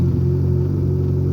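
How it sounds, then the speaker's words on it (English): A steady, loud engine idles with a low rumble and constant hum, its fuel pump under PWM control from a standalone ECU, running evenly throughout with no voices. "So that's the engine running now"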